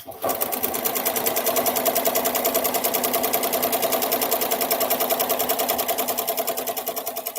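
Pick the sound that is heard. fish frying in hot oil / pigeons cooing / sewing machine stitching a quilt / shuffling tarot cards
sewing machine stitching a quilt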